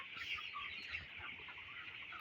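Broiler chickens clucking in a steady, busy chorus, close by and moderately loud, with no talking.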